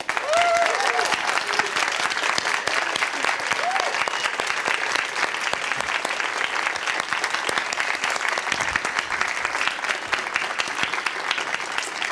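A theater audience breaks into sustained, loud applause to welcome actor Alan Rickman on stage, steady clapping filling the room throughout, with occasional faint voices underneath.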